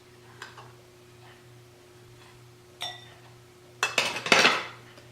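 Breaded chicken strips set down on a baking dish in a home kitchen, giving a few soft taps followed by a louder burst of clattering and clinking against the dish, close by with no talking.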